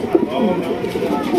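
Pigeons coo in low, rounded calls at an Eid-day pigeon sale, heard under a person talking nearby.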